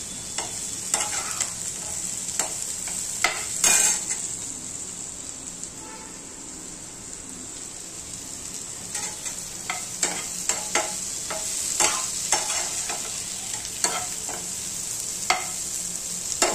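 Bitter gourd sabzi cooking in a kadhai, with a soft steady sizzle and frying hiss throughout, broken by repeated sharp scrapes and clinks of a spoon stirring against the pan.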